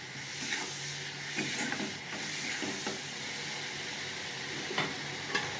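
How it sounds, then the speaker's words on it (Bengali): Spice paste sautéed in oil in a pan while cooking a Bengali fish curry with cauliflower and potato, a dense continuous sizzle with soft stirring scrapes and small pops throughout. "এবার মশলাটা আমি একটু কষে নেবো।"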